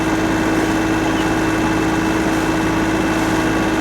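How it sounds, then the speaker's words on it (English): A sailboat's inboard engine runs steadily at high revs while setting anchor, giving a constant loud drone with a strong tonal hum and no break through the clip. "Just increase the revs a bit more."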